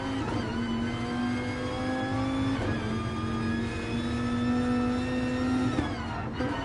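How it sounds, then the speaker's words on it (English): Viper GT3 race car lapping Brands Hatch in a GT3 series race, its engine holding a loud, steady tonal roar with slight pitch rises and dips as it accelerates and eases off. "I will shut up a minute so you can hear the beautiful engine notes of this Viper"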